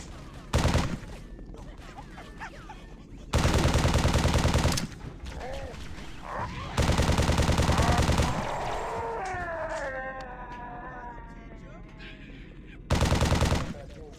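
An assault rifle fires loud, rapid automatic bursts in the Halo CMT game, four separate volleys of sustained fire with quieter gameplay ambience and alien chatter between them.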